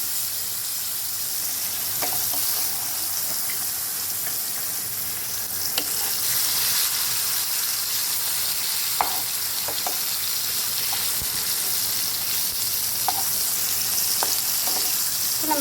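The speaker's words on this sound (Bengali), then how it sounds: "এখন কাঁকরোল আলু একসাথে ভেজে নেব, তারপরে বেগুনটা ভাজবো।" Spiny gourd and potatoes frying together in a pan, giving a dense, even sizzle with occasional clinks and stirring scrapes, close and continuous without speech.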